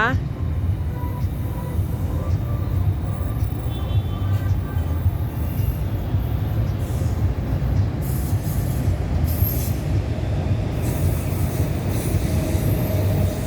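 A train rumbles steadily past a station near a hotel, heard from the tenth floor, with continuous rail noise and occasional high wheel squeals.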